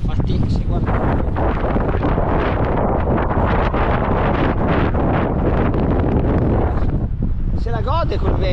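Strong wind blows on a lakeside bike path, buffeting the microphone with a loud, continuous roar for the whole stretch; a voice briefly surfaces near the end.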